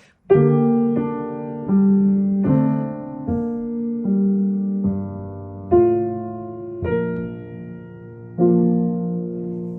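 A piano plays a series of chords from Schumann's Träumerei, each struck firmly and then fading, beat one loudest with a decrescendo across the measure, the phrase repeating in a gentle rise-and-fall of loudness.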